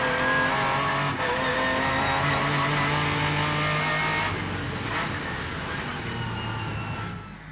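An Aston Martin DBRS9 GT3 race car's engine screams loud and close as it accelerates, climbing through rising gear-change notes with a brief dip and renewed pull.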